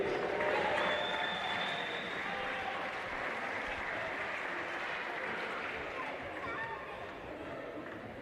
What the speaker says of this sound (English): a big round of applause for Jakey